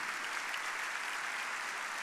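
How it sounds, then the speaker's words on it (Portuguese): A church congregation applauds steadily at a church congress, a dense, even wash of many hands clapping that holds at constant strength without pauses or distinct individual claps. "Se é para Jesus, aplauda bem forte, não é para Ele"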